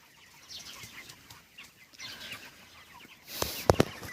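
Broiler chickens are raised on straw litter in a long farm shed. Soft, scattered clucking and rustling stay faint at first, then a sudden loud burst of squawking and flapping erupts near the end.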